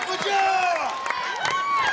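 A crowd cheers and shouts for a Ninja Warrior UK contestant partway through his obstacle-course run, with a loud, steady roar of voices and whoops that lasts the whole stretch. A commentator talks over the noise.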